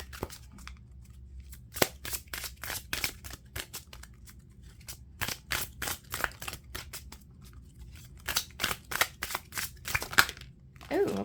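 Tarot and oracle cards being shuffled by hand, heard as bursts of crisp riffling and slapping snaps in irregular clusters, close and fairly quiet, with a faint voice at times.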